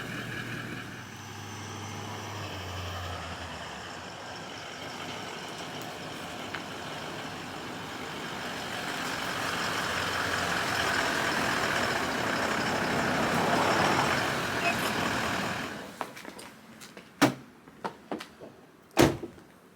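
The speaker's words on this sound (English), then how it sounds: "let's go for a drive." Toyota Land Cruiser 200 Series on the move, with steady road and engine rumble throughout, swelling louder mid-drive, then a few sharp clunks and knocks near the end as the vehicle settles.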